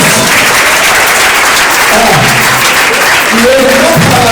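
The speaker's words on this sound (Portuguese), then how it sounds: "Dá um aplauso para Jesus." Church congregation applauding during a healing testimony service, loud continuous clapping filling the room with some voices mixed in.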